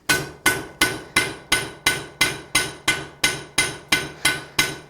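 A blacksmith hammers a hot steel scarf at the edge of an anvil, forging a fire poker: about fourteen loud, evenly spaced ringing blows in a steady rhythm, close by, with no talking.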